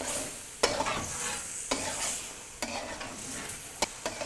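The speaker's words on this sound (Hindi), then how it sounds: "अब हम इसको चिकन के साथ मिक्स करके भून लेंगे।" Tomatoes and chicken frying in oil in a karahi while being stirred, with a continuous hiss and sizzle and a few sharp scrape or clack strokes at irregular intervals, close up with no talking.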